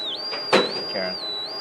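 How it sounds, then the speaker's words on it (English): A homemade metal detector emits a steady, piercing whistle-like tone that wavers slightly in pitch, with a brief thump and short murmured voice sounds underneath. "Sounds like a captain's whistle."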